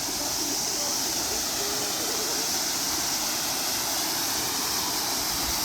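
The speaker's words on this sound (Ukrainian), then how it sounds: "А ми дійшли до водопаду." A waterfall in the Carpathian mountains gives off a steady, broadband rushing roar, continuous and fairly close, with no clear voices over it.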